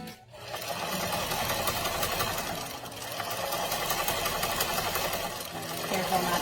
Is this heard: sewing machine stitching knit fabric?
yes